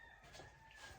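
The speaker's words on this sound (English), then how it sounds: "there's a rooster crowing out here outside" A rooster crows in the background, steady and moderately loud, with a faint high whine running through it and no talking.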